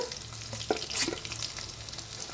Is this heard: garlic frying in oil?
yes